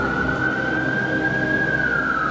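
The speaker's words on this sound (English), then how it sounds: "Sirens rang out as the doors opened and jolt." An emergency siren in a school film scene rings out loud and steady as a single sustained wail, holding alone with no talk for the whole stretch.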